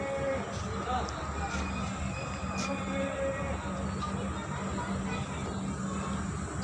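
Sadbhawana Express train standing at platform 1 of Sultanpur railway station, giving a steady, loud rumbling roar with dense mechanical noise throughout and no clear breaks.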